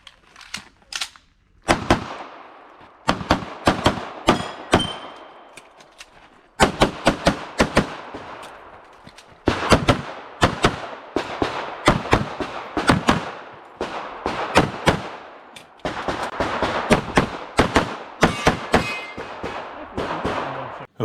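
Gunshots from a USPSA practical shooting stage run, loud sharp reports fired in rapid strings and pairs with short pauses between bursts for movement and reloads, continuing for about twenty seconds.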